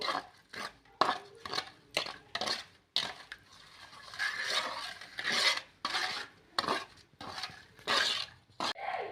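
Mango pickle masala with salt is stirred by hand in a bowl, producing close, repeated gritty scraping and rubbing strokes in short bursts, with no talking.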